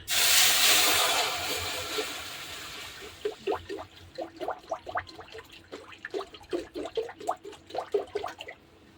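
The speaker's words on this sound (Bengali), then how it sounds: "আমি গ্যাসে কড়াইটা বসিয়ে দিয়েছি, এখন আমি জল দিয়ে দেবো ডালটাকে সেদ্ধ করার জন্য" Water is poured into a pan on a gas stove for boiling masoor dal, opening with a loud rushing hiss that fades into a run of close, irregular bubbling and spluttering pops.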